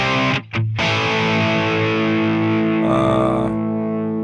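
Distorted electric guitar through an Amplitube 5 amp simulation with V30 speakers: a held, saturated chord ringing out loud with a brief gap near the start, no talk.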